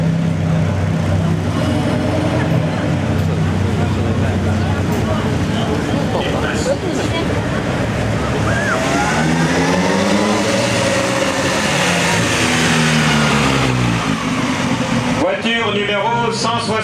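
A 1935 Bugatti Type 57 cabriolet with Randvoorn coachwork of Courbevoie drives past at a festival, its engine rumbling loud and steady, rising as it nears, with crowd noise and a voice over the top throughout.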